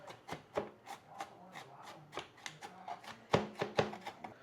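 Knife chopping vegetables on a cutting board in a steady run of sharp, close taps, with a couple of louder, heavier chops near the end.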